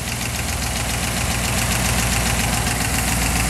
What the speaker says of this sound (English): 312 four-barrel engine out of a Thunderbird.